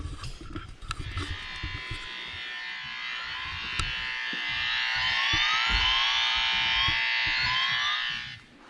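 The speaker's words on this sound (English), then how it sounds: "So the louder the tone gets, the closer he is to the wire." A wire tracer probe sweeps along a wall to find hidden wiring during a whole-house speaker installation, producing a steady, loud electronic warbling tone with rising glides that swells louder midway before cutting off, while faint handling noises sit underneath.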